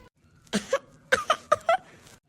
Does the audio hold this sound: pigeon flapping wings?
no